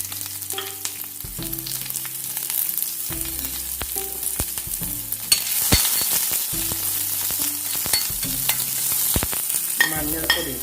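Sliced onion frying in hot oil in a pan, with mustard seeds and curry leaves in the mix for an Indian jackfruit and lentil thoran. The sizzle is loud and steady, with occasional stirring clatter and no talk.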